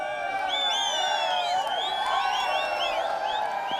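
A massive crowd at a Shpageeza T20 cricket league match, Bost Defenders vs Amo Sharks, cheering continuously with repeated shrill whistles and whoops over a dense, steady roar.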